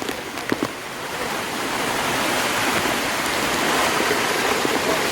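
Water pouring down from a waterfall at a hill fort during heavy monsoon rain, a broad continuous roar that swells slightly, with a few brief knocks near the start and no talking.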